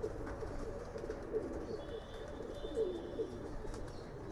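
Racing pigeons perched on a roof coo in a low, steady murmur, with a few fuller calls rising now and then over a constant faint outdoor background.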